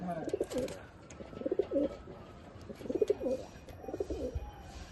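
Pigeons in a loft being readied for a winter competition coo in repeated low, throaty phrases, close by and fairly regular, with no talking.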